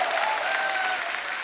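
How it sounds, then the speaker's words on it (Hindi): Studio audience applause on an Indian television comedy show, dense and sustained clapping from a large crowd heard close and loud for a moment, tapering slightly at the end. "आपकी ये तालियां, ये सीटियां हमारे लिए ऑक्सीजन का काम करती हैं।"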